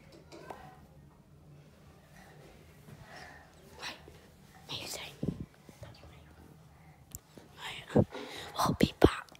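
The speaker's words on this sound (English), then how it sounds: "It's a dog." A dog inside an old pub house gives a few short, faint barks and snorts toward the end, mixed with quiet whispering and breathing from people nearby.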